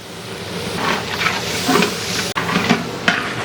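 Three bunches of fresh mint go into a pan already holding ginger and garlic for a large batch of brinji, hissing and sizzling loudly as it is stirred with scraping strokes.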